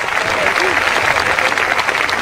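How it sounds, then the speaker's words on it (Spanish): Applause from a church congregation, dense and continuous across the whole stretch, with faint voices mixed into the crowd. "Ese aplauso que se escucha ya a la distancia"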